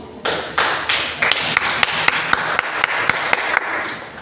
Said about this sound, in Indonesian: tepuk tangan untuk Vivi